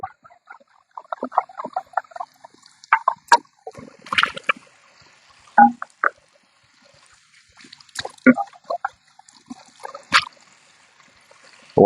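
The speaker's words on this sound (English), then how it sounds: "Rinse the bottle out." Water sloshes and splashes in irregular bursts as a bottle is rinsed out, with short gurgling pours and pauses between them, close and moderately loud.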